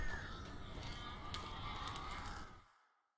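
Dense flock of crows cawing in the video game Alan Wake, a thick, continuous wash of overlapping calls at close range that fades out near the end.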